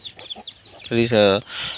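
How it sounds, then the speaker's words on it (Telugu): A native country chicken clucks in short bursts, then lets out a louder drawn-out squawk, close by. "ప్రజెంట్ ఇప్పుడైతే మన దగ్గర 50 కోళ్ళు ఉన్నాయి."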